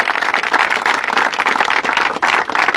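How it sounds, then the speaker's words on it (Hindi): Crowd clapping during a welcome at a Haryana gurukul gathering: a dense, steady patter of many hands held at an even level for the whole stretch, with only a brief dip near the end. "प्रधान जी के लिए तालियां बजाओ भाई"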